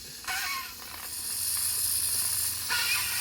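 Steady hiss of steam venting from a garment steamer onto a satin print, close and continuous, with brief surges in intensity and no talking.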